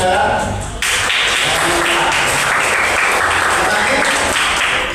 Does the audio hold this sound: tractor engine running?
no